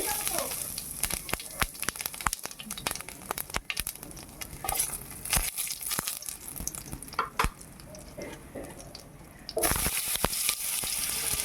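Bay leaves, dried red chillies and whole cumin seeds hit hot oil alongside a handful of fried Gobindobhog rice, giving a steady, close, crackling sizzle with scattered sharp pops and stirring clatter throughout.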